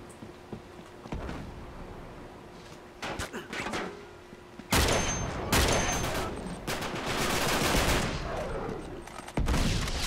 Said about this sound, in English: Who shot at me?